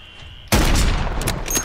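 A single sharp, loud sniper rifle shot in Modern Warfare III bursts out after a quiet moment and rings off in a long reverberant tail, with no talking.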